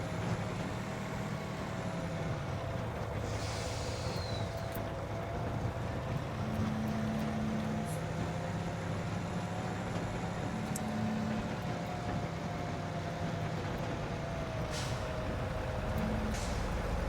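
A truck drives in Farming Simulator 25 with a continuous low engine drone and rumble, steady and fairly loud throughout, with brief higher hisses and tones over it.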